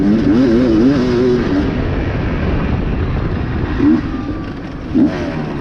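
A push-button two-stroke dirt bike racing in a hare scramble at Pleasant Creek Raceway drones steadily up close, with a wavering pitch and short revving surges near the end.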